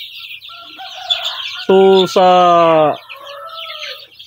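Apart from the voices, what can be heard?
native chicken chicks clucking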